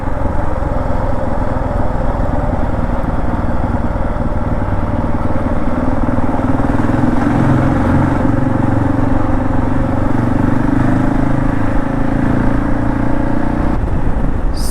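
A Husqvarna 701 motorcycle riding on the road in Germany, a loud continuous engine drone and wind rumble holding steady throughout.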